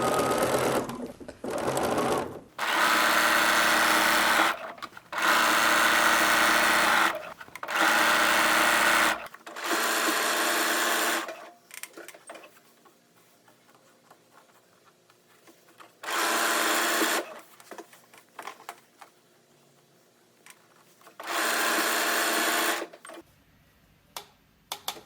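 A sewing machine stitches elastic stretch lace onto a lingerie skirt, starting at the side seam. It runs in a string of close, steady whirring bursts with short pauses, then a quieter gap before a few more spaced runs.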